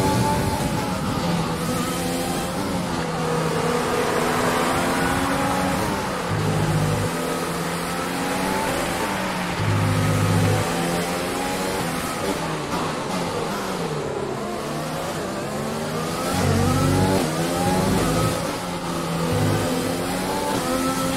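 An F1 race car engine in the F1 2020 video game at the Vietnam Grand Prix screams loudly and continuously, rising and falling in pitch through repeated upshifts and downshifts.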